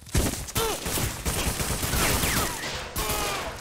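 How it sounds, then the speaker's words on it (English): Gunfire rattles in a shooter video game, with dense, overlapping bursts of shots and sharp ricochet-like whines. The shots are close, loud and keep going for the whole stretch. "Who's shooting?"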